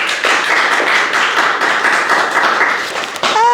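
Audience applause at an interview event for a funeral fayre, with close, steady clapping from a small group that breaks off near the end as a brief sound takes over.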